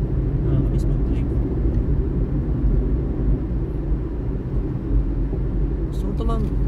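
A Honda Brio car being driven: a steady, low engine and road rumble heard from inside the cabin, constant throughout, with a faint voice briefly over it near the end.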